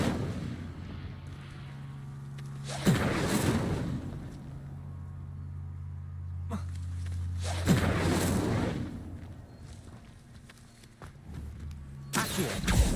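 Three loud whooshing fire blasts from an Incendio spell in Hogwarts Legacy, each a roaring burst several seconds apart, over a low droning game background.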